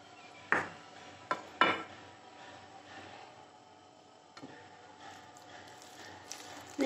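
Spoon stirring cardamom powder into a carrot laddu mixture with ghee in a pan: a few sharp utensil clinks early on, then quiet soft scraping and faint taps, close but low in level.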